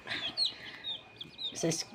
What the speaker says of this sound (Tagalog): At ito nga pala yung biniling manok na sisiw ng aking anak.